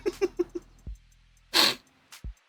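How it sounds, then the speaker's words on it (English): A single sharp human sneeze with a cough-like burst, preceded by a few quick breathy sniffs and followed by a brief soft thump, close and fairly loud against quiet surroundings. "I've been told that my sneezes sound like coughs."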